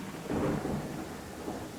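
A thunderstorm strikes houses in the Land of the Vikings video game: a low, rolling thunder rumble swells and fades over a hiss of rain, with no voices.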